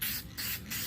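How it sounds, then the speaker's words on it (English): Lacquer sprayed onto a mesquite bowl in a spray booth, two quick hissing bursts separated by a brief gap, close and fairly loud. "So I'm gonna give this a spray"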